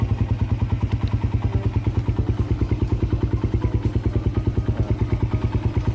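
A Suzuki Satria FU150 motorcycle engine fitted with a PE28 carburetor and a BRT CDI idles steadily up close, its rapid, even exhaust pulses thumping in a constant loping rhythm.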